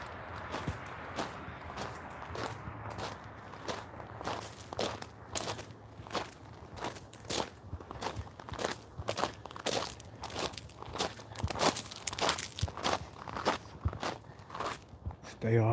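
Footsteps crunch over dry, brittle ground in a hilly cemetery, a steady walking rhythm of close, crisp crackles that grows slightly louder over time, with occasional voices.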